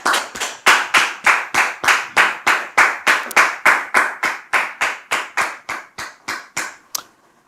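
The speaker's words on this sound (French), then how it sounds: "Sous vos applaudissements, s'il vous plaît." Audience applause at a French-speaking family gathering, as a couple is welcomed: about twenty loud, evenly spaced claps in a steady rhythmic beat, ending abruptly.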